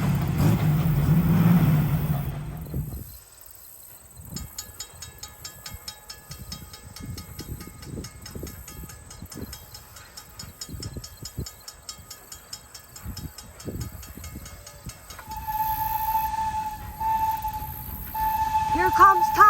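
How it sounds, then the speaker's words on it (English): A train from Thomas the Tank Engine passes, with a rumbling approach followed by a sustained rail hum and then a high steady whistle-like tone near the end. A voice speaks over parts of it. "Bye-bye, train."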